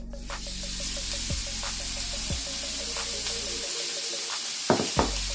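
Meat hits a preheated skillet and sizzles loudly, a dense steady hiss that continues throughout, with a couple of brief clanks near the end.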